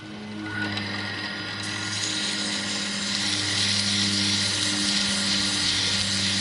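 A ferrule being sanded to shape its taper, likely spun on a motor-driven lathe: a steady mechanical hum with a strong abrasive hiss that swells and holds close and loud throughout, with no talking.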